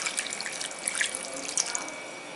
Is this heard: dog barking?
no